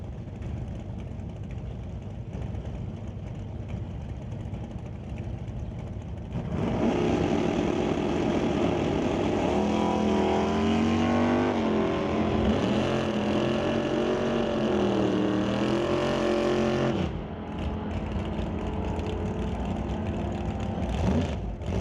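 Drag race cars, including a Monte Carlo, roar down the strip at an ET bracket race, engine noise swelling loud for about ten seconds before easing back to a lower rumble.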